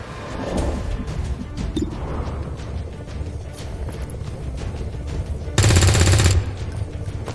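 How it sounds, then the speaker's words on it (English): Heavy gunfire in the video game XCOM 2: rapid automatic bursts and impacts rattle through a busy firefight, with one loud, dense burst standing out near the end. "Taking heavy fire!"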